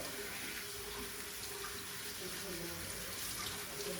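Poha (flattened rice) being rinsed in water in a kitchen, a steady running-water wash with continuous splashing close by, level throughout with no talk.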